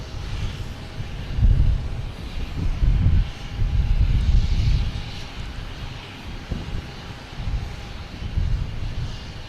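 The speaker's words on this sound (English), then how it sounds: "we have United Airlines coming in from Denver. 737-900." A United Airlines Boeing 737-900 jet arriving at Boston Logan produces a moderate, rumbling engine roar that surges and eases in waves, with gusty wind buffeting the microphone throughout.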